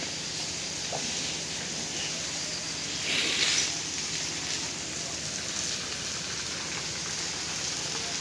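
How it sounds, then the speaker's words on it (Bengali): Continuous hiss of heavy rain falling on surfaces at a river ferry crossing at night, fairly soft and even throughout, with a brief brighter splash of drops in the middle. "প্রচুর বৃষ্টির আওয়াজ হয়তো আপনারা পাচ্ছেন।"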